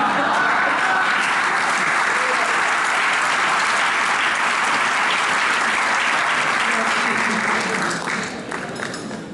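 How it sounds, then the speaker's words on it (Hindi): Sustained audience applause at an Urdu poetry mushaira, a dense, even roar of many hands clapping for the whole stretch before tapering slightly at the end, with no speech over it. "तालियां बजानी है तो ढंग से बजाएं वरना"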